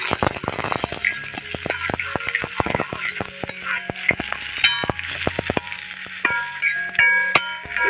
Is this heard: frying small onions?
yes